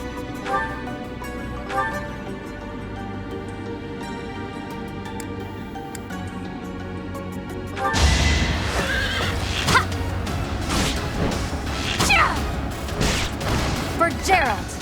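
Horses whinny and neigh over game music in Fire Emblem: Three Houses during a battle on sand, with the soundtrack swelling louder and busier about halfway through.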